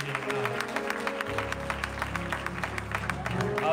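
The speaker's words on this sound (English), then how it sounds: "And give him a hand clap." A church congregation claps in a steady, rhythmic beat over music, loud and continuous throughout, with a few voices mixed in.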